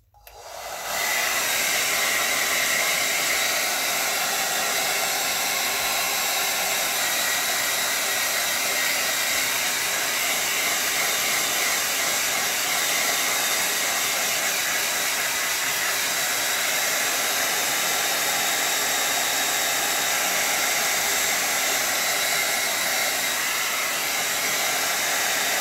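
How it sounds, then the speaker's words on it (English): A blow dryer roars on at once and keeps up a loud, steady whoosh for the full length, used to dry a watercolor painting, with no talking over it. "let's do a quick hit with the blow dryer."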